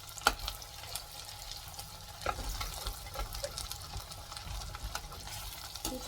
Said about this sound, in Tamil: ஃப்ரை ஆகிட்டு இருக்கு